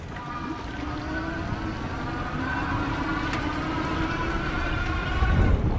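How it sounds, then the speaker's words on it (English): An electric bike's powerful planetary geared hub motor whirs steadily under acceleration, its tone climbing slightly over a constant rush of road and wind noise, close and continuous throughout. "there's a little bit of extra noise produced by this bike because of that planetary geared motor and just how powerful it is"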